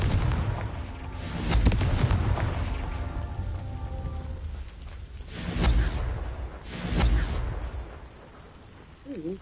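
Confringo blasting spell explosions in Hogwarts Legacy: three deep booming blasts at spaced intervals, each swelling and fading into rumbling debris, with low background ambience between and no clear talking.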